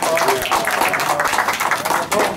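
Brief, steady clapping from an audience greets a racer entering for a winner's interview, a short continuous patter of many hands under a voice.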